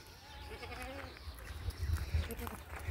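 A goat, a kajla male at a farm in Rajanpur, bleats faintly in short wavering calls, with someone talking over low background noise.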